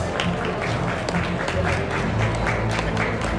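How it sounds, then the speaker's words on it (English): Steady round of applause from an event audience honoring hackathon winners, close, dense clapping with a low murmur of voices underneath, continuous for the whole stretch. "And a round of applause for our winners tonight."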